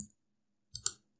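A computer mouse gives a faint tick and then, after a silent gap, a close pair of crisp clicks, as a Windows settings button is pressed.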